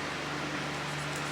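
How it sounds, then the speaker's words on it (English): Fan running in a hot garage during a K24 engine build, a steady broadband whoosh with a low constant hum, unchanging and close throughout. "Sorry about the fan in the back too."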